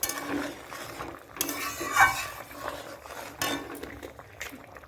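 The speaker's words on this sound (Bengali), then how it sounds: "একটু নাড়িয়ে নিতে হবে।" A spoon scrapes and clinks against a pot while chicken curry with a little ghee is stirred, giving irregular metallic taps and scrapes at close range with no talking.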